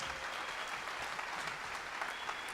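At a 2019 Martin Luther King commemoration, an audience applauds, a soft, even wash of many hands clapping that holds steady and sounds somewhat distant.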